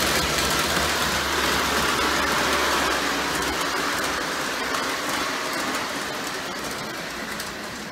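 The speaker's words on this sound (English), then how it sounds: "we have a lot of noise going on here today with the O-scale trains running on the upper deck" A steady rushing clatter of O-scale model trains rolling along track on an upper deck, continuous and fairly loud, slowly easing off toward the end.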